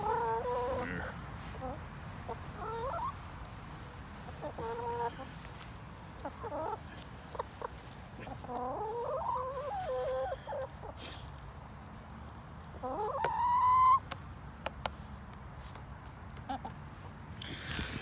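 Chickens cluck and call in short bursts while searching a square bale of grass for bugs, close by, with pauses of quiet rustling between calls and one louder squawk near the end.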